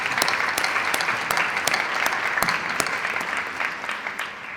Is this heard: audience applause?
yes